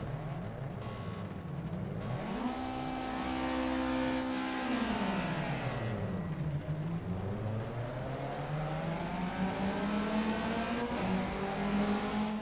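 Race cars in Project CARS roar off the grid at a sprint race start in foggy rain, engines climbing and dropping through gear changes in a dense, continuous pack of revving with no voices.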